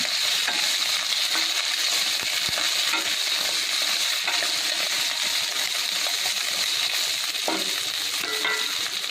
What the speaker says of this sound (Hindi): हम इसमें डालेंगे ये जो कटी हुई गोभी हमने रखा है, आधा 1 मिनट इसे चला लेते हैं